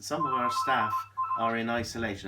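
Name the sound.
phone ringing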